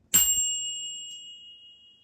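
One sharp strike of a Sport Out bicycle bell, loud and close, followed by a rich ringing tone that lingers and gradually decays.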